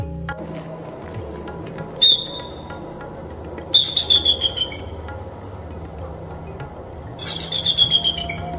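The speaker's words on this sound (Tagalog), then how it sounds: "Ang tunog naman ng bald eagle, Haliaeetus leucocephalus, ay isang manipis at tila pagtatahol." Three bursts of thin, high, rapid chittering calls from a bald eagle, heard over a steady background of insects and outdoor ambience.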